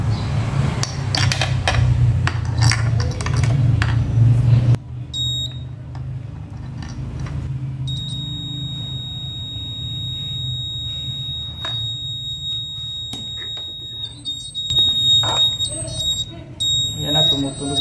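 A multitester set to buzzer mode for continuity testing gives a steady electronic beep that starts partway through and sounds on and off, fairly clear against background noise and handling sounds, with a person talking at the start.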